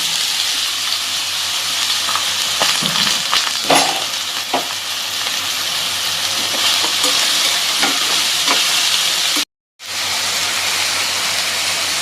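Chopped ridge gourd sautéing in a hot pan, a loud, continuous close sizzle with occasional stirring clicks, broken by one very short gap of silence.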